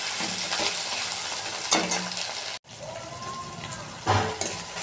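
Tomato frying with onion in a pan for a spicy duck egg curry, a steady broadband sizzle with a few stirring scrapes and a brief drop-out midway, close and continuous with no talk.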